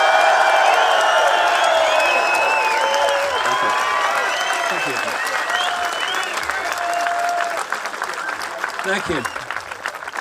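A festival crowd gives a speaker loud, sustained applause with some cheering and whoops, while a voice briefly speaks over the clapping.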